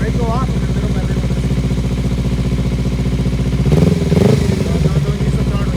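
A motorcycle idles steadily and close, then its engine note rises and wavers near the end as it pulls away in first gear, with a voice talking over it.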